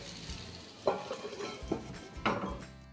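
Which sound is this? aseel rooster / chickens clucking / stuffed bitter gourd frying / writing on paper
stuffed bitter gourd frying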